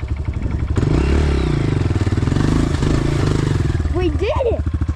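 A dirt bike engine in second gear revs hard through mud, a loud, close, pulsing motorcycle drone that holds steady and then climbs, with a voice calling out near the end.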